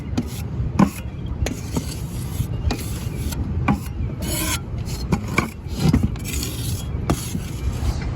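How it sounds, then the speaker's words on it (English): Trowel scraping and buttering tile mortar along roof hips and ridges during a tile roof install in South Florida; a steady close rasping, rubbing texture with repeated sharper scrapes and taps throughout, no talk. "the guys finish buttering up the mortar here on the hips and ridges"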